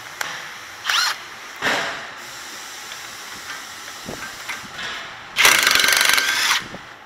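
Short bursts of rapid mechanical clicking and whirring from a socket ratchet with a 21 mm socket on a Dodge Charger lower control arm bolt, separated by pauses, ending in a longer, louder ratcheting run; close and without speech.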